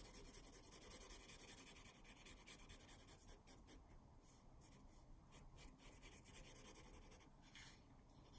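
Pencil or crayon being rubbed sideways across paper to color in an op art circle design, a steady dry scratchy rasp of continuous strokes, close and quiet, with no voices.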